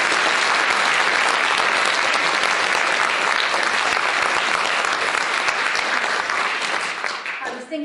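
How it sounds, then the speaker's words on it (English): Sustained, loud applause from an audience at a public speaking competition's judging and results ceremony, thick continuous clapping that holds steady for several seconds before thinning slightly at the end. "So a huge, huge round of applause now for all the people taking part."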